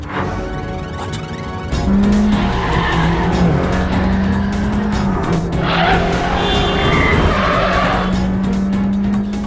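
In a film action scene, a speeding car, rigged with a bomb under it, skids with loud, sustained tire squeals over a roaring engine, the screech rising and repeating across several seconds.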